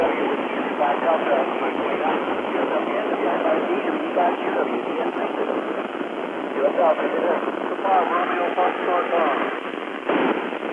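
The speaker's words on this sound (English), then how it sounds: "You hear that static? That's a lot of noise in the background." Dense radio static from solar activity hisses continuously through a narrow band during an ISS satellite pass, with faint warbling tones and murmuring voices buried in the noise.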